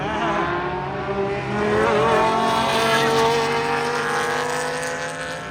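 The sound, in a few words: race cars driving at Daytona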